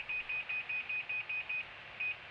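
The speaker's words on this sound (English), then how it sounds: "Any beeping indicates that the distance between the truck and forward vehicle is closing" A sharp electronic warning beep from a truck's Bendix Wingman Advanced collision mitigation system repeats eight times in quick, even succession, pauses briefly, then sounds once more over a faint low hum.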